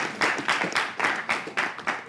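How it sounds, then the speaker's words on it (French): Audience clapping during a live event broadcast, a few slow, evenly spaced claps in a rhythmic pattern, fairly close and moderately loud, with no voices over them. "ça s'applaudit"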